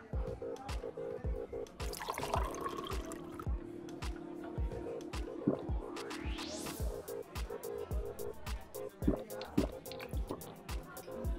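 A drink is poured in the video game Valorant: a rising gurgle of liquid filling a glass, surrounded by repeated drips and small clinks, with a voice speaking over parts of it.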